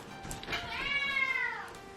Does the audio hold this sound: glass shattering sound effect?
no